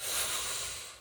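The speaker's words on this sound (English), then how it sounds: "Sometimes you just got to take a deep breath in" A long, steady inhalation during a seated breathing exercise, a soft airy hiss that swells and then fades over about a second, close and alone with no talking.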